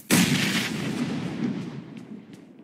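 A single heavy gunshot in a shooter video game bursts out loud and sudden, then rolls off into a long booming, reverberant tail with no voices over it.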